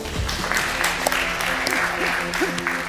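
Judges on a televised cooking competition clap for a savoury churros dish, a short burst of applause heard close up, with voices talking over it.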